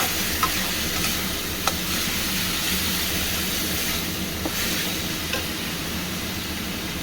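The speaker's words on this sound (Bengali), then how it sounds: "একটু খুব ভালো করে এই মশলাটা কষাবো।" Spice paste of tomato and green chilli sizzles and fries steadily in a pan while being stirred, a continuous close hiss with a few faint clinks from the stirring.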